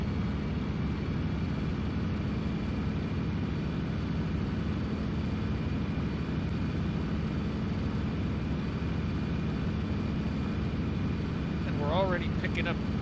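A Focke-Wulf D9 fighter plane in the video game IL-2 1946 drones with a steady, loud engine roar throughout its takeoff run, joined by a brief warbling whine near the end.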